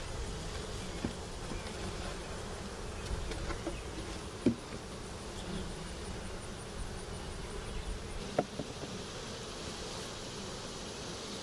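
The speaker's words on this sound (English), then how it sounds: "Got tons of bees behind me here. I'm blocking their entrance." A dense hum of honey bee wings at a hive entrance fills the air, steady and close, with a few soft clicks and bumps scattered through it.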